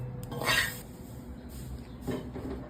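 Chaya leaves being dry-stirred in a pan for a homemade seasoning powder, heard as a few quiet scraping, rubbing strokes of a utensil against the pan with soft gaps between them.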